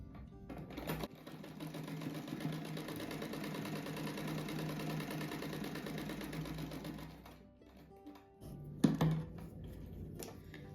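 A sewing machine runs in a long steady burst as a rug is stitched, its motor whirring loudly for about seven seconds before stopping, followed by a few short clicks and bumps.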